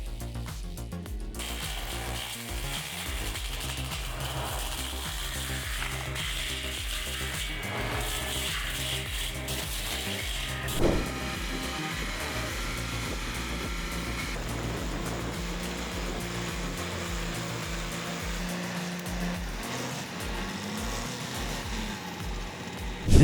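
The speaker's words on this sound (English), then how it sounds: "It is a high-power, bush-cutting mulching industrial system in forestry." Excavator-mounted forestry mulcher shredding brush, a dense, continuous mechanical roar with grinding, rattling and shifting engine load throughout, close and loud without pause.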